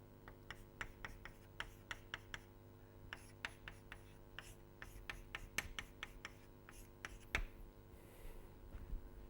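A lecturer writing on a board, rapid close taps and scratchy strokes in quick bursts with brief pauses, over a faint steady room hum, no talking.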